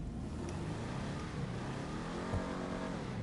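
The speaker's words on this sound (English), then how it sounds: "let's hear this exhaust here real quick" Quiet exhaust of a customized Chevy Aerosedan in GTA Online, revving slowly in a soft, low steady drone with a gentle rising sweep near the end, faint overall and without speech.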